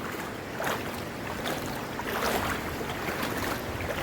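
Lipit Secret Falls in Sison, Pangasinan gives a steady, broad roar of rushing water, dense and unbroken, heard up close with no voices.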